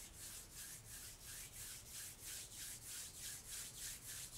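Two palms rubbing briskly together, a close, soft swishing friction repeating in an even back-and-forth rhythm of about two strokes per second, with no talk.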